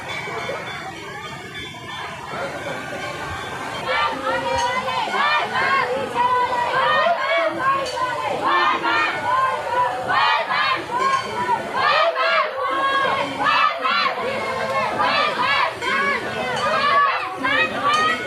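A large crowd of visitors at Jatmai temple and waterfall fills the scene with dense, continuous chatter, calls and shouting, loud and close, rising after the first few seconds.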